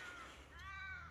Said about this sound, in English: There's a lot of crows squawking around